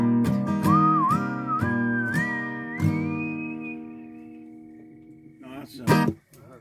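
A person whistles a tune at a song circle, clear sustained pitched notes rising in steps over a held accompaniment tone, ending with a few short chirped notes.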